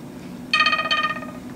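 A Samsung Galaxy S4 gives a short two-note charging chime as it is plugged into a portable battery pack, clear and close over faint background hum.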